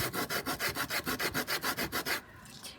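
Wood sanded by hand with 100-grit sandpaper while building dressage rail supports: about twelve steady back-and-forth rubbing strokes in an even rhythm, close and clear, then stopping.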